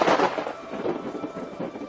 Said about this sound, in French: Le tonnerre.